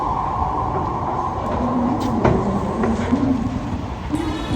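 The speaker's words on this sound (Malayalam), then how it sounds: "Right now at Kadavandura metro station." A metro train at Kadavanthra metro station gives a loud, continuous rumble with a whining motor tone that shifts and rises. Scattered rail clicks sound midway.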